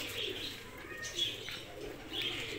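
Pigeons kept in a breeding loft coo softly and repeatedly in soft rounded phrases over a steady background murmur, with a few faint chirps mixed in and no talking.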